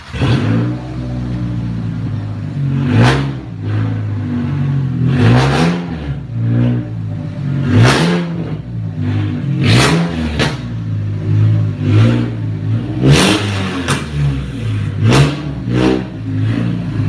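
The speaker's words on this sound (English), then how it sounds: "definitely enjoy the raspiness of this truck" A truck engine revs repeatedly, loud and close, its raspy exhaust rising and falling in a series of hard throttle blips with a rough idle between them.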